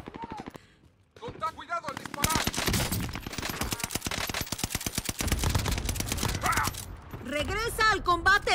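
Sustained machine-gun fire hammers at the player in Call of Duty: Vanguard, a long dense volley of evenly spaced shots with a brief pause, while a voice speaks before and after.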